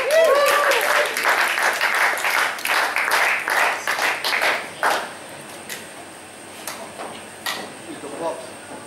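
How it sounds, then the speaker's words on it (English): Applause from a crowd fills the first few seconds, then thins out to scattered claps as a voice begins speaking. "Please give him a big round of applause."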